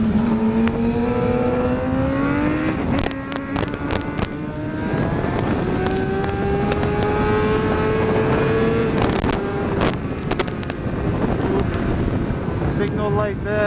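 A racing motorcycle brakes into a corner on track, its engine note dropping and droning under heavy wind buffeting, with sharp mechanical clicks and shifts scattered throughout.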